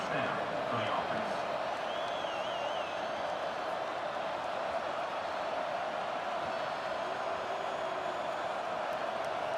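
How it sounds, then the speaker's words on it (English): A fired-up stadium crowd at an Alabama versus Auburn game in the College Football 25 video game produces a steady, distant-sounding roar of cheering that holds level throughout, with a faint whistle near the start. "It's early, but this crowd is fired up. Listen to this noise here."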